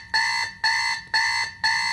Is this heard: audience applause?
no